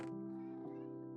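A cat meows in the Minecraft video game, a single drawn-out, tonal call that is close and clear and holds steady through the clip.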